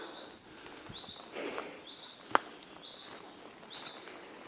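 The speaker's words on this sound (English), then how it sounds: "Birds singing in the trees." Faint birdsong drifts through woodland trees, short high chirps repeating every second or so at a distance over a quiet background, with one sharp nearby click midway.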